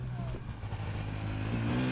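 A motorcycle passes along a rocky ridge trail on a hiking route, its engine drone steady and fairly close, rising slightly toward the end, with light talk in the background.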